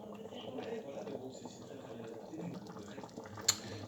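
Beef bourguignon bubbles gently in a pot, a soft low simmer with faint burbling and one brief clink near the end, quiet and steady throughout.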